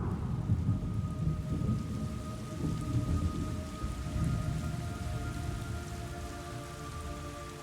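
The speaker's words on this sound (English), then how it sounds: "It's raining blood." Heavy rain pours steadily in a video game while rolling thunder rumbles low and close, the downpour constant and the deep booms swelling beneath it, with a faint sustained tone threading through the storm.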